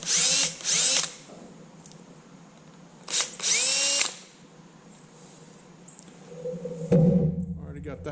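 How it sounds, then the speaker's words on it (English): A power drill countersinks screw holes in a spur swinger hanger, with two loud whirring bursts at the start, two more a few seconds later, then a softer clunk of handling near the end. "you can just kind of countersink them"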